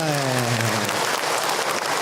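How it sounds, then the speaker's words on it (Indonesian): An audience breaks into loud, dense, continuous applause at an Islamic lecture, with a falling-pitch tone fading at the start. "tepuk tangan untuk buat bunda semua."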